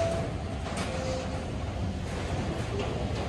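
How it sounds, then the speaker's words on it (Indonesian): KRL commuter train arriving at Rangkasbitung station in Indonesia, a steady low rumble of rolling rail wagons with faint squeal tones, continuous and fairly close without speech. "saat ini perjalanan KRL yang saya naiki sudah tiba di stasiun Rangkas Bitung."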